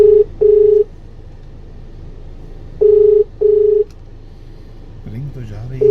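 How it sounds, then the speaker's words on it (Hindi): Phone ringback tone after dialing, two pairs of short repeated rings separated by a pause, followed by a voice starting to speak. "रिंग तो जा रही है।"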